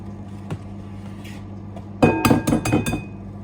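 Three eggs cracked into a bowl for a mango, apple and orange ring cake: a faint tap, then a cluster of sharp clinks and knocks against the bowl rim in quick succession, close and alone.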